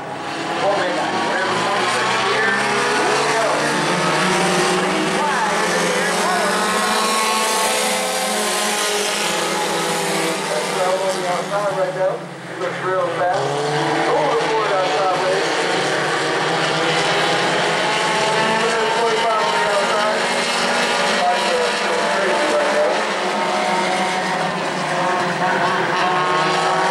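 Stock race cars in a 20-lap Bomber-class race at New Smyrna roar continuously and loudly, engine pitch rising and falling as they circle, with a commentator talking over the din throughout.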